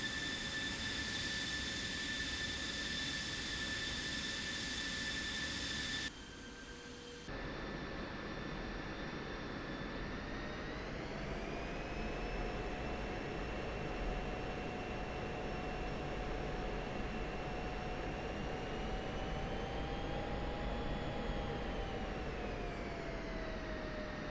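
An F-16 Viper jet engine running in Digital Combat Simulator, a steady loud whine with tonal lines that rise and fall as the throttle is snapped up and back to idle.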